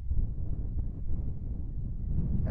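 Strong wind on the Serra da Passira mountain in Pernambuco buffets the microphone with a constant loud, low rumble.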